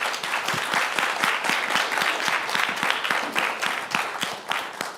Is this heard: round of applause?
yes